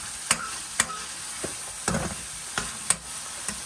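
Food for iftar sizzles steadily in a pan while a spoon stirs it, sharp scraping clacks landing at irregular intervals over the constant hiss, close and clear with no talking.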